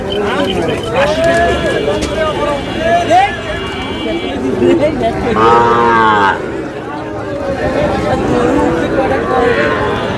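At a busy cattle market, a Sahiwal bull calf lows in loud, drawn-out moos, one especially strong near the middle, over constant close chatter and crowd babble.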